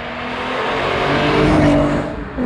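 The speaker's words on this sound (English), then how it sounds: "Why do V6s sound so good?" A VW Golf R32 with a V6 engine revs hard close by, its tone rising and swelling into a loud, smooth roar before briefly easing off, with no talking over it.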